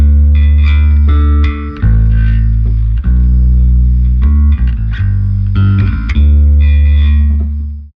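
A bass guitar is played through three channels at once, one of them an overdriven DI. The bass line is loud, thick and slightly distorted, with notes that sustain and change pitch repeatedly, and it plays alone without a band.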